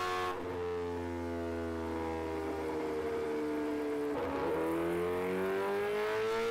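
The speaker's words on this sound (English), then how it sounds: "the 998cc supercharged inline-4 accelerates rapidly through the gears" A 998cc supercharged inline-4 engine pulls hard and climbs in pitch, easing briefly at a gear change before rising again, loud, close and continuous with no talking.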